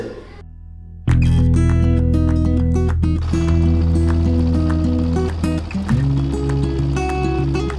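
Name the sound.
boat crossing the Halda river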